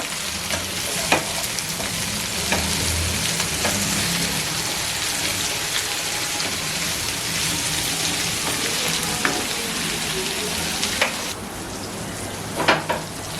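Ivy gourd (dondakaya) sizzles steadily in a hot pan for garlic chilli fry, with broad crackling hiss throughout and a few sharper scrapes and clinks as the pieces are stirred; no one speaks.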